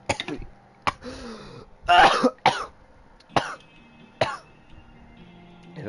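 A person coughs and clears their throat after choking, in several sharp, separate bursts with short pauses between, close and fairly loud, plus a strained groan.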